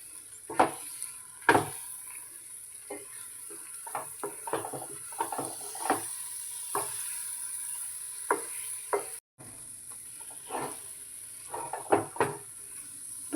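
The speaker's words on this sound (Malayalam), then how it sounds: "പാത്രത്തിൻ്റെ അടിയിൽ നിന്ന് വിട്ട് വരുന്നത് വരെ ഇളക്കി കൊടുക്കാം." Carrot and bengal gram halwa being stirred with ghee in a pan, a spoon scraping the bottom in a quiet series of uneven scrapes and knocks under a soft, steady sizzle.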